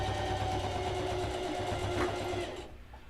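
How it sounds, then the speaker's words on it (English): Sewing machine stitching a fabric pot handle cover with thread, a steady rapid mechanical whir with fast needle clatter running for about two and a half seconds before tapering off. "I'm going to go in with my pink thread, and I'm going to sew this down."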